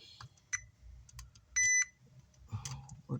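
A test meter gives a short, clear electronic beep while transistors are checked inside a Sound Stream MC 300 car amplifier that keeps blowing its power supply fuse, amid light clicks and handling noises.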